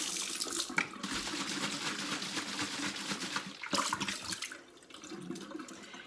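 Tap water runs into a bottle being rinsed out for recycling, a loud rushing splash that briefly pauses, surges again, then tapers off toward the end.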